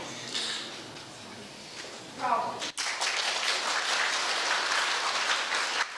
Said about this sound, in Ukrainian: По завершенню патріотичного уроку Володимиру Балуху аплодували стоячи.